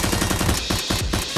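Toy Nerf blasters fire in a rapid, rattling burst of sharp pops, loud and close, with no talking.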